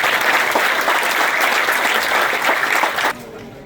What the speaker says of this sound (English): Please give us a big round of applause for all of our speakers today